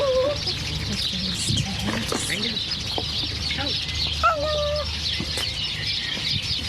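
A flock of chickens clucks and chirps in a coop, with scattered calls and rustling close by over a constant low background hum, occasional wing movement, and a person talking.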